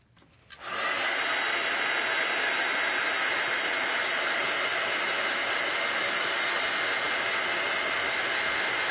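Heat tool switching on after a brief quiet moment and then blowing hot air onto ink on a canvas pillow cover, a loud, steady, close rushing hiss that holds without a break.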